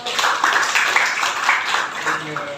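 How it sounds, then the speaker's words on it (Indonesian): A classroom audience claps for a student group that has just presented in a teacher-training lesson. The applause is a dense, steady patter lasting about three seconds, with voices mixed faintly underneath. "Tepuk tangan untuk kelompok 4."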